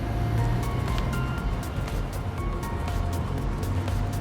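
A Profinstrument BG-3800 petrol generator running, a steady loud engine drone with constant low rumble and no change in pitch.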